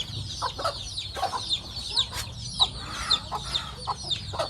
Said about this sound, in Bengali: আস্তে আস্তে মুরগি মুরগির বাসায় চলে যাইতেছে